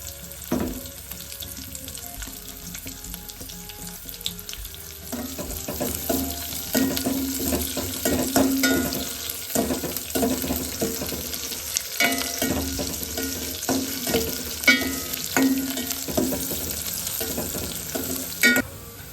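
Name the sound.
finely chopped onion frying in a pan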